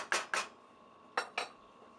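A lid goes onto a simmering pot of spiced Indian chickpeas with two quick pairs of metallic clinks and clatters, separated by a short quiet gap, fairly soft and close with no voices.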